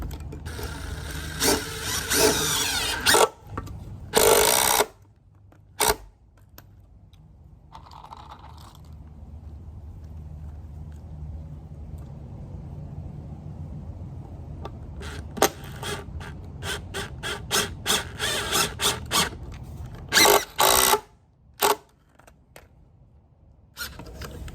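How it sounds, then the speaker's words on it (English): Power drill driving screws into a board while a bedroom fort frame is built, heard as repeated short whirring bursts with ratcheting clicks, separated by quieter pauses and handling noise nearby. "the screw will really bite in to this board and sink really nicely"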